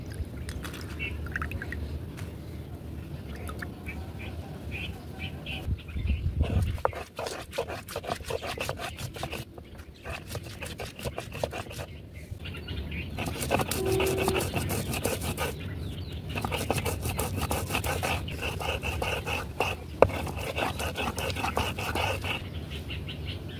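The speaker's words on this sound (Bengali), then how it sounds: "এখন আমি এই যে শুকনো মরিচ, এগুলো হচ্ছে পাটায় বাইটে নেব।" Dried chillies are ground by hand on a flat grinding stone in a village kitchen, making steady rhythmic scraping and rubbing strokes up close over a constant low background hum.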